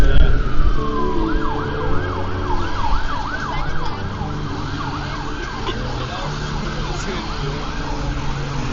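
An ambulance siren wails in a rapid, repeating up-and-down pattern near a protest at Trafalgar Square, loud and continuous over the low rumble of traffic and crowd.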